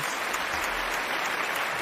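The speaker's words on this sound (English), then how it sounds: "I hope he gets that applause ready for the leg glider" A dense, even wash of applause plays as a sound effect on a podcast, a thick steady hiss of many hands clapping at constant loudness from start to finish.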